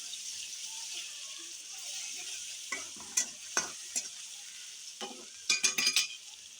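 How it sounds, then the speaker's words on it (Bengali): Garlic paste is stirred into a frying pan for a red amaranth and prawn dish: a steady sizzle with several sharp scraping stirs near the end. "আবারও নেড়ে চেড়ে মিশিয়ে নেব দুটাই।"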